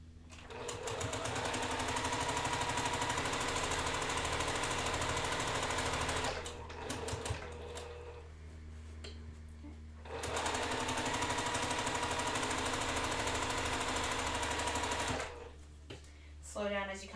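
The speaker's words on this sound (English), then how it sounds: "I'm going to sew the other half together." A sewing machine stitches quilt pieces in long loud continuous runs with a fast mechanical whir, pausing briefly in the middle while a person talks, then starting again.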